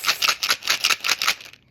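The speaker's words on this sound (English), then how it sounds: "sometimes I have to shake my pills to figure out what's what." Small pills rattle inside a bottle in quick repeated shakes, about seven bursts of clicky rattling, close and fairly loud, then stopping.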